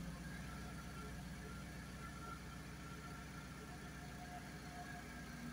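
A Jaguar XK8 engine idles after a fuel pump replacement, a faint steady low hum with slight hunting in its tone, heard up close without talk.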